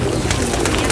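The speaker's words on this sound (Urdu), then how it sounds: "غارے سور کے کبوتر." Pigeons cooing close by at the Cave of Thawr in Makkah, soft throaty coos repeating over a brief moment.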